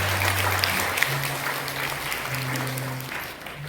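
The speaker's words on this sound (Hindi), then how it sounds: "सभी अधिकारियों का हम लोग जोरदार ताली बजा करके स्वागत करते हैं" An audience at a one-day camp in Khunti claps to welcome officials, a moderate wash of applause with a low steady hum beneath it, continuing throughout at an even level.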